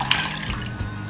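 A glass of water pouring into a wide bowl in a kitchen, a short close splashing and trickling stream that lasts about a second.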